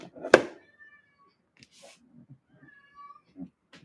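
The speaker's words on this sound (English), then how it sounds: "I'm hearing meowing" A cat meows once loudly and close at the start, followed by softer, fainter meows and small mews, with a quiet room otherwise and little else around.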